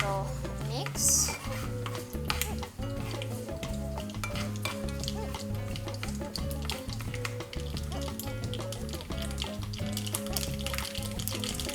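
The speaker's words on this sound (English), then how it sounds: "Now you can see it's bubbling, which means it's frying." Oil bubbling and frying steadily during the tempering for khaman dhokla, with scraping stir sounds and clinks of a utensil against the pan; a continuous close sizzle runs throughout over rhythmic low background music.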